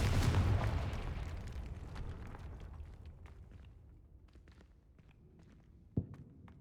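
Confringo explosive spell from Hogwarts Legacy, a fiery blast at the start that decays into crackling debris, then a sharp second burst later, with light footsteps between.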